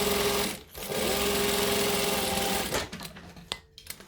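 A sewing machine back-stitches a bag seam, its loud close motor whirring steadily with a brief pause, then ending in a few stops and clicks.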